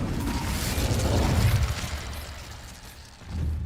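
An Incendio fire spell from Hogwarts Legacy erupts in a roaring, crackling whoosh that swells for about a second and a half, fades, then flares again briefly at the end; no talking.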